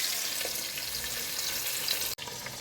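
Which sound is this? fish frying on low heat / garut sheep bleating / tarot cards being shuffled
fish frying on low heat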